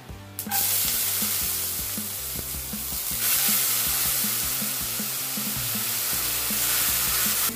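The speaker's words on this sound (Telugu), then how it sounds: "ఇలా కొద్దిగా ఒక 5 మినిట్స్ వేయించేసుకోవాలండి." Soaked chana dal fries in a pan with a pinch of asafoetida, a loud continuous sizzle broken by repeated rhythmic scrapes of a spatula stirring through the lentils.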